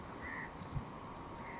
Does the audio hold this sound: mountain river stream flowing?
no